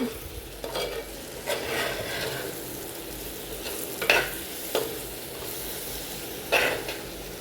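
Bird's eye chillies and shallots frying in a pan and being stirred, a steady sizzle broken by several scraping stirs of the spatula, close and fairly loud with no talk.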